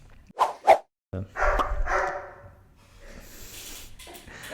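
A dog gives two sharp, close barks in quick succession, followed by a rougher, noisier stretch with faint sounds trailing off in an otherwise quiet room.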